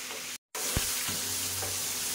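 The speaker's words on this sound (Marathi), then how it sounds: "बरो भाजून गोल्डन कलर येवपाक बरो" Mushrooms frying in a pan until golden, a constant close hiss of sizzling oil broken by a very short gap, with a few soft stirring knocks and a low hum underneath and no speech.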